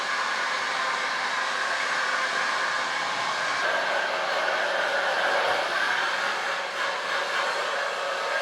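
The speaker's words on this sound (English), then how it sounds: "so now I'm going to blow dry it." A hand-held hair dryer blows hair dry, a loud, constant rushing whine of air close by whose tone shifts slightly as it moves, with no speech.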